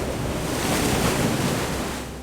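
Deep-water splashing in the FloodDragon diving game, a steady broad wash like surf or churning water filling the whole stretch, loud and continuous, easing off slightly at the end.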